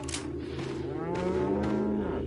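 Cow mooing in the video game Resident Evil 4 Remake, one long, loud, drawn-out low moo heard close and alone over a faint game background.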